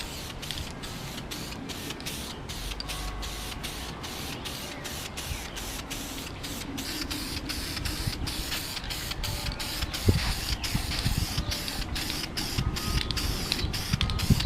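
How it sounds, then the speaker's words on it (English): A light coat of primer is sprayed onto plastic, heard as a steady close hiss broken by rapid rhythmic clicks of the spray can or gun, with a brief knock near the end; no talking. "what I want to show is the first very light coat of primer"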